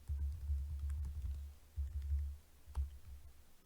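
Typing on a computer keyboard at a desk, with a short burst of soft, quick key clicks, fairly faint and close, riding over a low steady hum and no voices.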